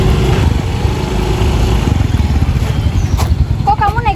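Motorcycle engine running close by, a steady low rumble throughout with people talking over it.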